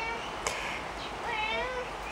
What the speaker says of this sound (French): Ah, là, vous avez le concerto du chat